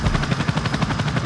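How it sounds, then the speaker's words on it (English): Rapid, loud rhythmic thumping of helicopter rotor blades in the Call of Duty Modern Warfare II video game, close and continuous, with possible gunfire mixed in. "Shooting at my helicopter."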